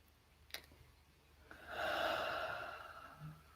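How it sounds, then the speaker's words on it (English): A single slow breath during a guided meditation: a faint intake, then a long, soft exhale through the mouth that swells and fades, heard close and alone without talking. "exhale through the mouth."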